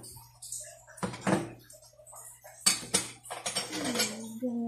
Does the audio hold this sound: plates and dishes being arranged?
yes